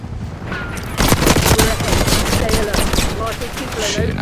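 Rapid gunfire in Call of Duty Black Ops 6, with a shotgun blasting in bursts of loud, close shots layered over game noise and a voice speaking in the background.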